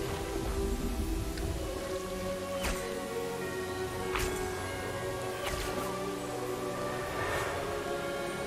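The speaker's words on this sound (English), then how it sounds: "Let there be rain." Rain called up by a spell in Hogwarts Legacy, a steady close downpour hiss with a few sharp splashy crackles scattered through it, no talking.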